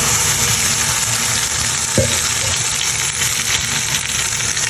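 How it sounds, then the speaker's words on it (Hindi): Potato and tomato mixture frying in oil inside a pressure cooker, a close, loud, steady sizzle with a brief clink of a utensil partway through. "सारी चीज़ें हमने इसके अंदर ऐड कर दी काट पीट के, और इसका जो है ना ऑयल भी ऐड कर देते हैं।"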